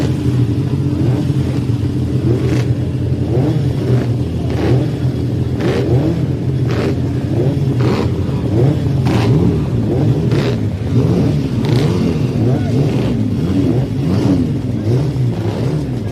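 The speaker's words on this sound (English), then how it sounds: "The flat cylinder there, the boxer engines of the BMWs, running away, ready to hit the way down" BMW flat-twin boxer-engine race machines at a pre-TT classic three-wheeler event rev hard and pull away, a loud continuous engine roar with repeated rising and falling throttle surges over a boggy road course.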